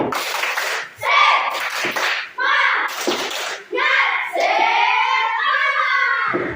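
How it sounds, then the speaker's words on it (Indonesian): Schoolchildren in an Indonesian sixth-grade classroom chant together while beating out a rhythmic spirit clap, loud and close, in several bursts separated by short pauses. "Tepuk semangat."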